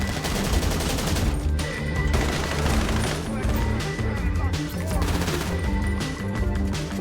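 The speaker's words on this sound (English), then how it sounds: "you can shoot the handle to break the lock" Bursts of rapid gunfire in GTA Online aimed at a door's lock handle: loud, dense volleys of shots with crashing impacts, repeating across the whole stretch over a heavy background mix.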